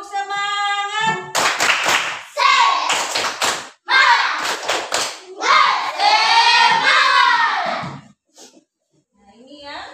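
Schoolchildren in an Indonesian classroom do a tepuk semangat spirit clap, bursts of crisp rhythmic hand claps mixed with chanting voices, loud and close, ending in a brief pause.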